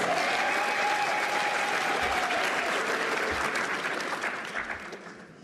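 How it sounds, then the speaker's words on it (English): Sustained applause from a crowd at a presidential announcement ceremony, a dense steady clatter of many hands that holds loud for several seconds and then gradually thins and fades. "Give a round of applause then"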